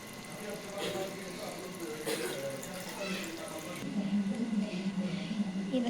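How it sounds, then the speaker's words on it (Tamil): Water poured from a tap or spoon into masala cooking in a pan for mutton brain fry, a faint running trickle that becomes a brief sizzle, heard under someone speaking. "கொஞ்சம் தண்ணி போடுங்க, சும்மா ஒரு 2 ஸ்பூன்,"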